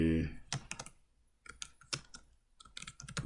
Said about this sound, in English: click on chart title and type